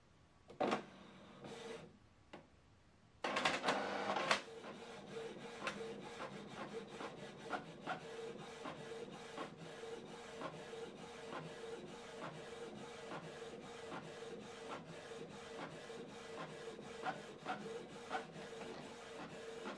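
A Canon TS3750i inkjet printer prints a plain A4 document, starting with a few short whirs before settling into steady, rhythmic mechanical sliding and clicking, quiet and close with no talking.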